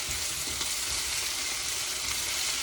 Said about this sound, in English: this has been sauteing for a few minutes. I'm just gonna keep tossing it around